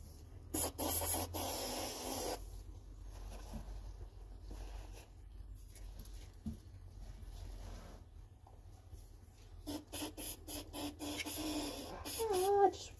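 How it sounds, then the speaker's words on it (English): An aerosol deodorant can sprays in a long hissing burst, then a few shorter puffs and rustling follow nearby, with no talking. "I'm just gonna spray some deodorant"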